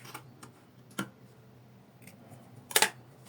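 Scissors cutting fabric for a necktie, a few quiet snips and ticks followed by a sharper, louder double cut near the end, close-up in a quiet room with no speech.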